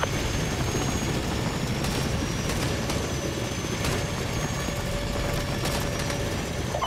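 Helicopter in the video game Call of Duty: Modern Warfare 2 Remastered, a steady, loud rotor and engine roar that runs unbroken throughout, with no voices.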